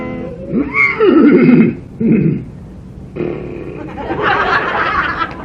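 A person imitates a horse whinny with a wavering, neighing voice, broken into a few bursts with short pauses between.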